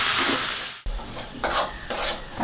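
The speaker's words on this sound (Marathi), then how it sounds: "सर्व चांगलं मिक्स करून घेऊया।" A utensil stirs spices into hot oil in a pan for egg rice, with a sizzle and a few scraping strokes after a brief sharp knock.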